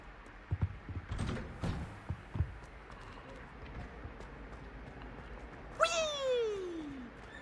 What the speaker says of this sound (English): Patting the kitty cat.